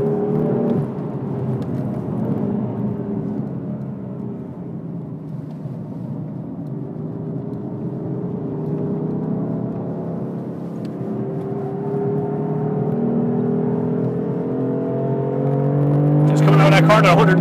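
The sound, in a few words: BMW M4 driven fast on a race track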